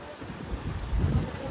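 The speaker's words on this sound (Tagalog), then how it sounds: "Ang sarap ng hangin, no?" Wind buffets a boat off Camiguin, a steady low rumble of rushing air against the microphone that builds slightly toward the end, with no clear talk over it.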